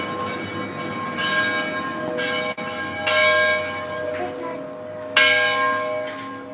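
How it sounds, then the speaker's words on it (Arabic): A church bell in the village of Bekaa Kafra rings out in repeated loud strokes, each one leaving a long humming resonance that overlaps the next, with no talking over it. "نسمعكم صوت جرس حلو كثير"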